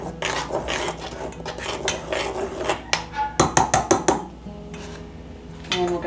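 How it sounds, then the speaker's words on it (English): Dry ingredients for a fresh peach pound cake stirred together in a bowl, with a spoon clinking and scraping against the dish in quick irregular strokes, close and fairly loud, pausing briefly before a final burst. "I'm just going to give those a quick little stir,"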